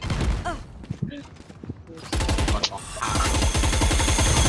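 Rapid bursts of gunfire in the video game Valorant, loud and close, with dense repeated shots through most of the clip and people talking excitedly over them.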